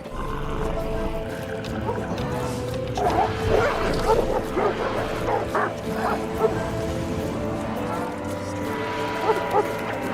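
Stray dogs bark and yip on the streets of South Central Los Angeles, with several sharp barks and whimpers in the middle of the stretch. Scattered calls sit over a steady background hum.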